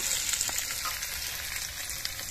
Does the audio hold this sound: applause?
no